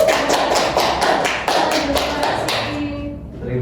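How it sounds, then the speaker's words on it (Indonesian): A classroom gives a short burst of applause, many hands clapping in a brisk, dense patter for about three seconds before it fades into room noise. "Tepuk tangan dulu ya"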